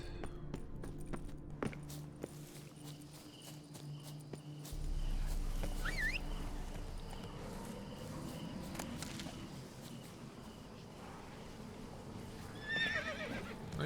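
A horse in The Witcher 3 whinnies twice, a shrill falling neigh near the middle and another at the end, over a low rumbling ambience with insect chirps and faint hoof sounds.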